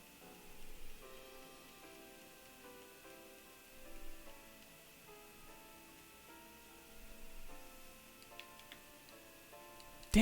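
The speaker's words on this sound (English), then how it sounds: "I guess I'm rain dancing" Rain from the Rain Dance move in Pokémon Fire Red, a soft, steady pattering game sound effect that ticks along quietly beneath a simple chiptune melody, ending with a brief louder burst.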